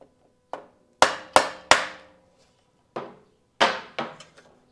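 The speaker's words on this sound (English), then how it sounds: "Let me get a plastic hammer." Sharp plastic hammer blows on metal of a Honda XL 75 motorcycle ring out one by one, a quick run of three, then a few more spaced strikes, each with a short metallic ring.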